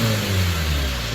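A 1993 Hyundai Sonata DOHC 16-valve engine with intake temperature sensor and EGR faults revs loud and close under throttle, its strong steady drone holding with layered harmonic tones.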